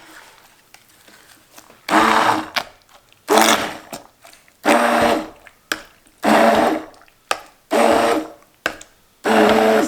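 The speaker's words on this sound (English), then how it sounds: "I'm gonna use an immersion blender here" An immersion blender purées cooked apples into apple sauce, whirring in loud bursts of about a second each, seven or eight pulses with short quiet gaps between them.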